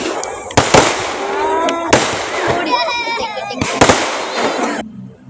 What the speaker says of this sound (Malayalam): ടപ്പേന്ന് പറഞ്ഞ് മാലപ്പടക്കം പൊട്ടി